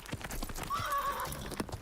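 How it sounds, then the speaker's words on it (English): A horse in a video game whinnies in a long, wavering neigh over steady, rapid galloping hoofbeats, with clip-clop continuing throughout at close range. "The horse makes a sound. A neigh, huh?"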